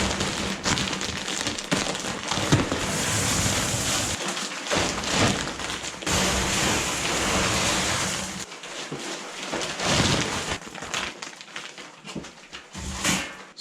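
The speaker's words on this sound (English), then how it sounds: "grab a bag of pellets and chuck them in" Wood pellets poured from a bag into a pellet stove, a loud, continuous rattling hiss of small pellets cascading, surging and pausing briefly as the bag shifts.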